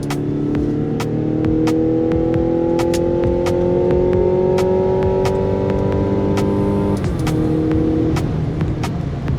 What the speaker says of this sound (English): it certainly has plenty of horsepower to get up and go